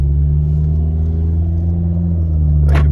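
Engine rumble of a 2008 Chrysler Sebring with a 2.4 four-cylinder and automatic gearbox, heard as a steady, loud low drone while accelerating, with a smooth shift partway through and a short scuff at the end.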